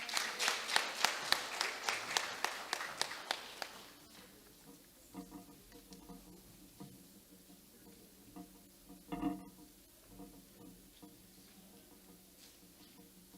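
Audience at a middle school awards ceremony claps for award winners, a burst of dense applause lasting about four seconds before fading into quiet room noise and faint murmuring.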